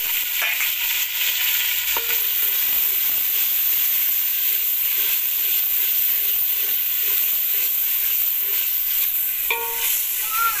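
Tomatoes go into sizzling masala in a frying pan for Sindhi sagh, a steady loud hiss of frying that fills the whole stretch, with occasional spoon clinks and stirring knocks against the pan.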